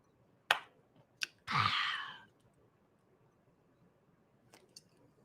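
Someone drinking water after a long hot day: a couple of sharp clicks, then a brief wet gulping burst and a soft exhale, close and quiet in an otherwise still room.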